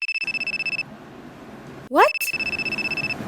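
A toy phone rings with a rapid pulsing electronic trill, pauses while a voice speaks briefly, then starts ringing again, loud and close.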